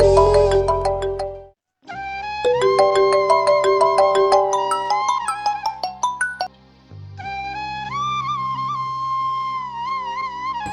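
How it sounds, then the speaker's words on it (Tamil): Mobile phone ringtone rings loudly and repeatedly in a village home, a bright synthetic melody playing through with brief pauses between repeats and no voices over it. "என்ன ஃபோன் வந்துகிட்டே இருக்கு?"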